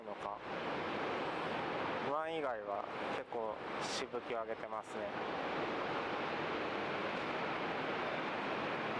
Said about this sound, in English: the waves are a little high.